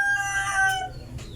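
An Asil and Shamo cross rooster crows once, loud and close, a single sustained call with no other sounds around it.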